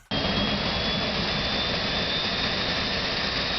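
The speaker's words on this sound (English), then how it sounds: "When a jet engine comes alive, it starts with a hissing sound" A jet engine starting roars steadily with a broad, loud hiss and a thin high whine on top, constant from start to finish.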